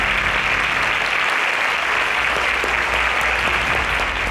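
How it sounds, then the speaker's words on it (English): An audience claps for Hansel at the grand finale of the InterswitchSPAK 6.0 competition, a loud, thick, unbroken wall of applause lasting the whole stretch. "A round of applause for Hansel."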